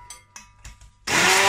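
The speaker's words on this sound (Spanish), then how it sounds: "Y todo esto lo vamos a batir con la batidora." Hand blender mixing peaches and syrup in a bowl: a few soft clicks and taps, then the motor starts with a loud steady whir that continues to the end, with no talk.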